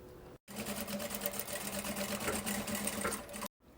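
Sewing machine stitching a seam on a 3D children's backpack, running in one steady continuous burst of close, even mechanical whirring with brief pauses at the start and end.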